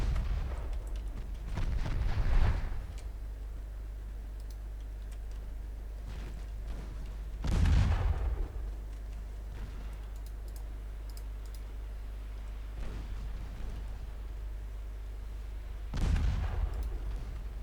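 Naval warship guns firing in Ultimate Admiral Dreadnoughts: dull booming salvos roll out every few seconds over a steady low rumble, fairly soft and distant, with a few faint clicks between them.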